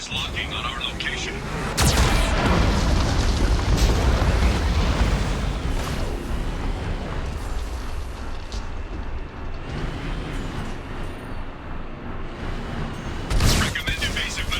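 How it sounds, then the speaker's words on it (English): Geth cannon fire and explosions from the video game Mass Effect 2: heavy booming blasts break out, with a loud burst near the start and another near the end, over a rumbling battle din and with speech over it. "Warning, Geth cannon is locking on our location."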